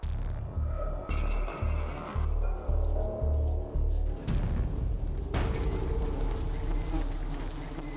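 A swarm of giant honeybees drones at a wild nest in a jungle tree, the buzzing loud and dense with pulsing low thumps early on, then spreading into a steady hum.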